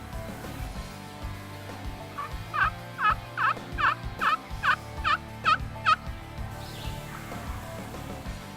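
A wild turkey in Georgia gobbles back right after a single call, a rapid run of about eight loud, rattling notes in a steady rhythm at moderate distance, with quiet outdoor background and no talking.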